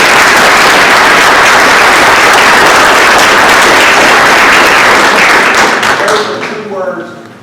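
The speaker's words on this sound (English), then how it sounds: "So I'd like to give them a round of applause." Loud, full applause from the audience at a school board meeting honoring student athletes, a dense roar of clapping that holds steady for about six seconds, then tapers off quickly as a voice begins.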